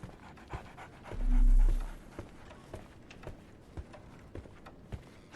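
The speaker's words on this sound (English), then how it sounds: "So, Barnes has a dog now." A dog pants in quick, rhythmic breaths in a Sherlock Holmes video game, with a soft low thump early on and light footstep-like taps throughout.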